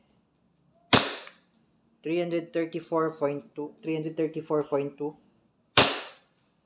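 WE Glock 19 Gen 4 airsoft pistol fires two sharp single shots, several seconds apart, with someone speaking between them.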